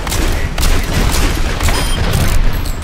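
Rapid, loud gunfire and impacts from the video game Overwatch, played as McCree, pound continuously as a turret is shot down, a dense burst of shots and booms with no pause.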